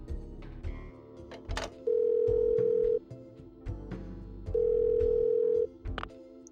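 A telephone in the Parasite Eve 2 video game gives two long, steady electronic ring tones about a second each, separated by a pause, over quiet game sounds and scattered clicks.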